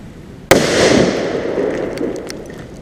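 A single firecracker bursts with a sharp, loud bang, followed by a long fading rumble and crackle as it echoes away.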